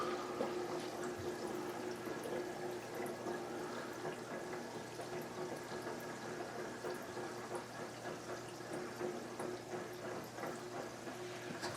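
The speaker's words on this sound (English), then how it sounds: "It's clearing the air out of the filter chamber, it sounds like." A Tunze Comline 3168 aquarium filter purges trapped air from its chamber, giving a steady faint gurgle and trickle of water with a low hum underneath, continuous throughout.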